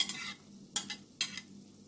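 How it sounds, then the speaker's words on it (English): Onion, scallion and garlic go into a hot pan, giving several short bursts of crackling sizzle and stirring scrapes against a quiet steady background, close and fairly soft. "I'm going to add the onion and the scallion and the garlic"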